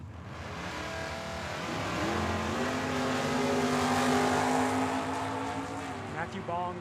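Drag racing cars, an '87 Monte Carlo and a Mustang, roar down the strip at Tucson Dragway, their engine noise swelling loud and steady as they rise through the revs; a public address voice talks over the engine sound.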